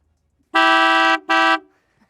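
Two loud blasts sound from the twin trumpet horns on a 2024 Boston Whaler 350 Realm boat. The first is a long blare and the second a shorter one, both close and brassy, with near silence around them.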